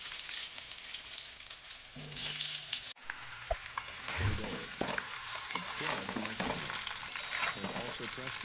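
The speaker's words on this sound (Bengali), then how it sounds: "একদম অল্প করে ভেজে নেব" Raw mango pieces for pickle frying lightly in oil with whole five-spice and dried red chillies, a continuous hissing sizzle with scraping stirs and a brief cut in the middle before the crackle resumes.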